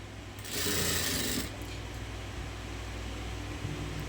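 Sewing machine stitching along joined lace trim, a steady close mechanical whir that runs the whole time, louder in the first second.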